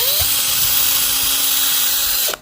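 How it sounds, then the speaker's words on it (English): A power drill whines loudly and steadily for a couple of seconds drilling into a 3D-printed plastic part, then cuts out abruptly. "and then I'll try drilling into it"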